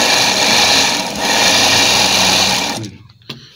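Sewing machine stitching a side pocket onto a gents kurta, a loud steady whirring run of stitches for nearly three seconds, then stopping with a couple of small clicks, close up and without talk.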